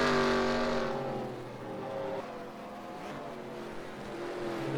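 Sportscars racing at Sebring in a racing video game during a 12-hour endurance event, with engine whines sweeping up and down as cars pass at close range, loud and continuous.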